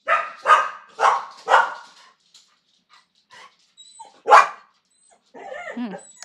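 A pet dog barks loudly indoors, four quick barks in a row, then a pause and one more bark, followed by soft whimpering and whining.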